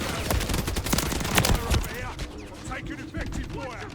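Shotgun fire in the video game Modern Warfare 3 cracks out in rapid, loud blasts during the first half, then thins to scattered shots while a voice talks over it.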